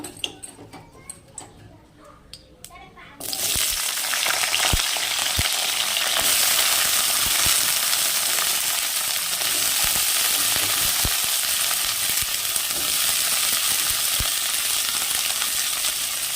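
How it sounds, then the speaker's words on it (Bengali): Cauliflower florets go into very hot oil in a kadai: after a few quiet handling clicks, a sudden loud, dense sizzle erupts and holds steady, dotted with sharp spitting pops. "আস্তে আস্তে আমি ফুলকপিগুলো ছেড়ে দেব"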